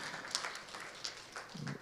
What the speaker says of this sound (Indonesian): tepuk tangan buat Pak Juneman